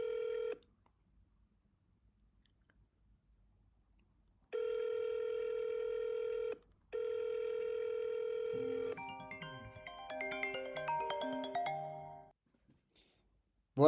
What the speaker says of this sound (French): j'ai relié un téléphone qui se trouve juste à côté de moi, que vous allez entendre sonner.